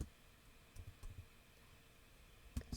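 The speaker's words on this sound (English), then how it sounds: "Sorry, I'm typing this up" Soft, quiet clicks of typing on a computer keyboard, a few sparse bursts of keystrokes spread over a few seconds against a low background hiss, with a sharper cluster of taps near the end.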